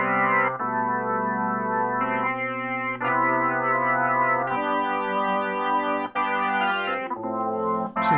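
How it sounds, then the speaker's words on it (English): A Roland Alpha Juno synthesizer emulation run through an Airwindows plugin plays a rich, buzzy chorused chord sequence, sustained tones shifting every second or so, bright and vivid with a slightly distorted edge and no talking. "that's giving me some of the sense of what an Alpha Juno actually sounds like"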